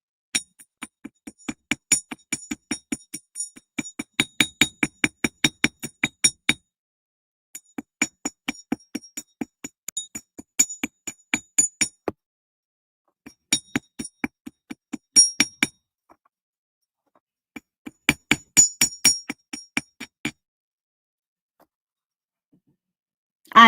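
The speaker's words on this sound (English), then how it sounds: "Now I want to put some texturing on with the ball pin." A ball-peen hammer taps jewelry metal to texture it, producing bursts of rapid, bright metallic clinks in several runs separated by short pauses, close and clear with no talking.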